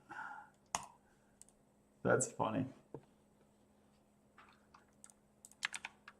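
Computer keyboard typing with bursts of clicky keystrokes in short clusters, fairly close, with a brief spoken remark among them.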